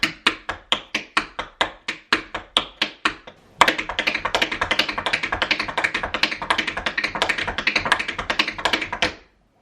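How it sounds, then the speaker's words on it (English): Tap shoes strike a hard floor in a series of evenly spaced single taps, then break into a fast, continuous run of multiple paradiddles, crisp and close, ending abruptly. "And then when you put multiple paradiddles together, it looks and sounds like this."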